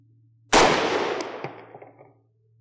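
.30 Carbine rifle fired once at a gel block 50 yards away, a single sharp loud report with a long fading outdoor echo over a low steady hum.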